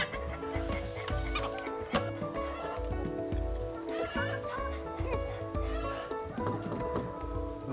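Chickens clucking on a farm raised on natural feed, a dense continuous chorus of clucks and calls close by, with occasional louder squawks throughout.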